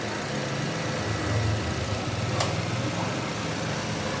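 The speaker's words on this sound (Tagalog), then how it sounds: "normal na yung operation ng compressor" A Nissan Almera idling with its air conditioning compressor running, a steady low engine hum with a continuous mechanical drone and one brief sharp click partway through, heard close up with no talk.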